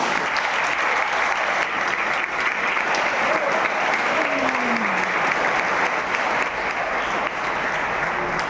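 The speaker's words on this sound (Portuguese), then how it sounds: "Aplauda o Senhor Jesus." A church congregation applauding during a Baptist Christmas service, a loud, unbroken wash of clapping from a large crowd, with a faint voice briefly rising beneath it.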